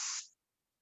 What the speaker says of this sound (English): So this spray, basically, you spray a little bit and then you blow immediately.